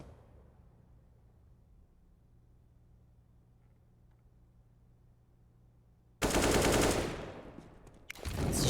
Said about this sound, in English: It's a shot from Bit